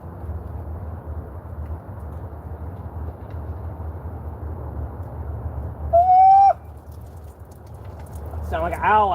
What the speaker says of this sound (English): Sound like an owl out here.